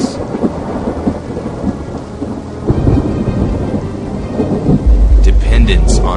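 Thunderstorm with rolling thunder and steady rain under storm-filled skies, the rumbling building loudly throughout with a heavy, close crack near the end.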